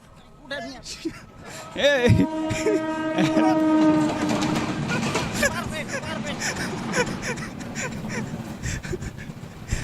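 A train pulls in, with rumbling rail noise and a sustained horn-like tone near the start, heard under steady talking throughout.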